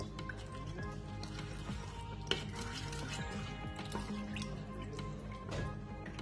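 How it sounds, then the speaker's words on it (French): Milk being stirred into cake batter with butter in a bowl: soft, wet, quiet scraping and light clinks of a utensil against the bowl, steady and close. "Je mets tout de suite le lait. Je mélange un tout petit moment."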